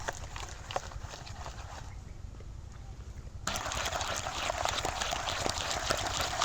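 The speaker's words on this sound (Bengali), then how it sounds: "এবার ব্যাটারটাকে ভালো করে একটু ফেটিয়ে নেব" Gram flour batter is beaten by hand in a bowl, producing a fast, steady wet slapping and clicking rhythm up close that pauses briefly and then resumes louder, with no voice over it.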